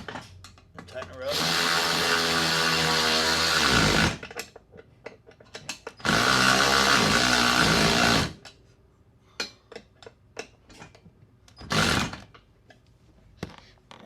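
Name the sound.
tightening golf cart upgrade parts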